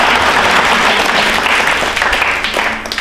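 Audience applause at a Rajasthan state election quiz show, a dense, steady wash of many hands clapping at close range that holds loud throughout and thins slightly toward the end.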